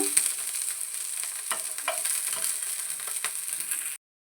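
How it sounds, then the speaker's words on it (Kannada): Dried red chillies and spices frying in a pan for a village-style avarekalu sambar, a steady high sizzle with a few soft stirring scrapes, close and alone before cutting off abruptly. "ಎಲ್ಲನೂ ಸೇರಿಸ್ಕೊಂಡು ಈ ರೀತಿ ಫ್ರೈ ಮಾಡೋಣ"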